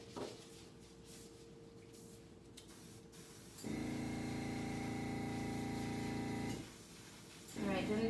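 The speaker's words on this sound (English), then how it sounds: "this is air pump I'm using. My husband got me this early Christmas present, a compressor" A small air compressor pump used for fluid acrylic painting kicks on with a steady mechanical hum and buzz, runs for about three seconds, cuts off, then starts again, with a voice talking faintly underneath.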